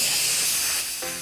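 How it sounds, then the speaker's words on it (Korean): Strong compressed-air jets blasting from several directions to spread batter into thin layers for a fake tempura food model, a loud continuous hiss that cuts back sharply near the end. "강한 바람을 여러 방향으로 쏴주면 그 바람에 반죽옷이 밀려가면서 얇은 튀김을 만들어냅니다"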